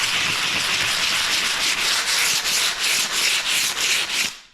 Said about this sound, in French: je vais pouvoir venir, tu vois, travailler mon joint et venir en fait le poncer tout simplement